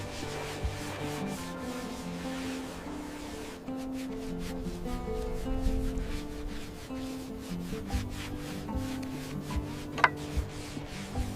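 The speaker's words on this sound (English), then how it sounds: "Rust removal begins using controlled manual scraping." Steady rasping scrapes on metal repeat in slow, even strokes as rust is scraped by hand from a 1943 Sherman tank, close and moderately loud, with occasional sharper clicks.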